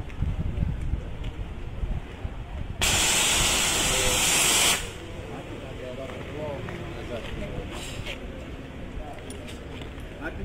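An AFFF aqueous film-forming foam fire extinguisher sprays in one steady, loud hissing burst lasting about two seconds, set within outdoor wind noise.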